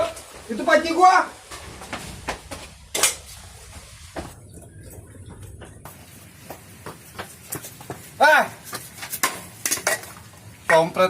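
Cooking pots clank and scrape in a comedic home scene, with sharp metallic knocks and rattles scattered through the clip, some louder bursts near the start and end, and people talking over and between the clatter.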